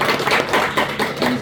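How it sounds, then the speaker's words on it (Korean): Church congregation clapping in a brief burst of applause during a Sunday service, a short flurry of close, uneven hand claps. "박수 한번 하겠습니다"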